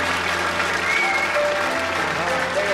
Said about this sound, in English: They applauded you.